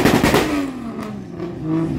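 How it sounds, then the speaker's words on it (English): Car drifting at a Trinidad car show, with a loud engine rev and a tire whine sliding down in pitch, steady and close with crowd ambience underneath. "Let me enjoy some more drifting."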